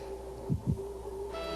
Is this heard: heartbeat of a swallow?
yes